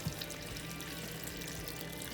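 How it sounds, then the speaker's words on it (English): Fresh filtered water poured steadily over bone broth ingredients in a pot, a continuous soft splashing wash that holds even and unbroken throughout. "I'm going to cover everything with nice fresh water."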